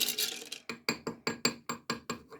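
A solar-powered rock tumbler turns stones with soapy water in its barrel, giving a steady run of sharp clacks and clatters about every quarter second, close and fairly loud with nothing else heard.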